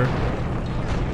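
A heavy, rumbling blast from a tank shell in the video game Sly 2, a dense low explosion filling the moment with a rolling roar and no voices over it.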